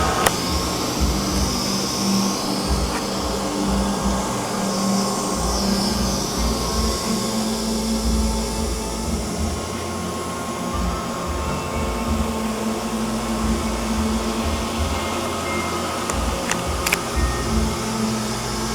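A Neato Botvac D75 robot vacuum cleaner runs nearby with a steady, unbroken whirring drone of motor and brushes, with no voices over it.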